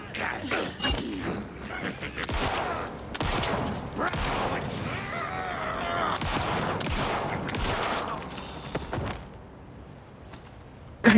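Rapid gunfire in Alan Wake 2 as a magazine is emptied, a dense burst of shots and mechanical clatter that runs for several seconds before dropping away, ending with a sharp click-like noise.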